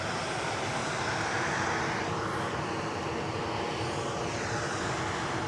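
Ryanair jet departing Edinburgh for Palermo, a loud continuous engine roar with broad rushing noise and a faint rising whine, no voices.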